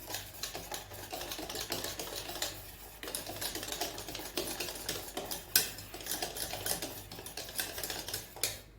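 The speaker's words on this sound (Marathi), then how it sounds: "तर आता या मिश्रणामध्ये आपण हा वाटी भरून रवा टाकणार आहोत बारीक रवा आहे आणि मिक्स करून घेऊया व्यवस्थित" Fine semolina being mixed into cake batter, a quiet stretch of rapid clicking and scraping utensil strokes in a bowl, irregular and close, with a short pause midway and a low hum underneath.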